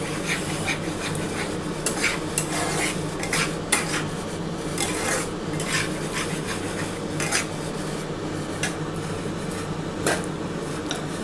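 Snakehead fish coated in cornflour is stirred in a pan, with repeated scraping and clattering of a spatula against metal over a continuous sizzling background, close and busy throughout.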